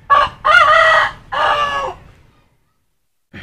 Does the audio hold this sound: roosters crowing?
yes